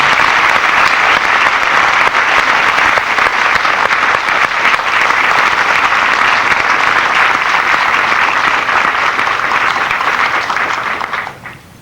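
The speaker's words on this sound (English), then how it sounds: "how about a nice round of applause for our newest military training instructors" Sustained audience applause at a US Air Force Basic Military Training parade ceremony at Lackland AFB, honoring new military training instructors; loud, steady clapping for about eleven seconds before tapering off.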